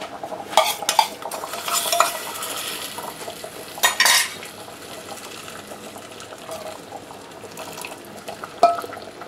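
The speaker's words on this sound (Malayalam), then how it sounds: "ഒന്ന് ഇളക്കി കൊടുക്കുക, ആ പച്ചമുളക് ഒന്ന് മാറട്ടെ. എന്നിട്ട് നമ്മുടെ സാമ്പാറിലോട്ട് അങ്ങ് ഒഴിച്ചു കൊടുക്കുക." Green chilies stirred in a hot tempering, then poured into Kerala sambar: metal spoon clinks and scrapes against a pot, then a gush as the liquid hits the sambar, with a few sharp utensil taps.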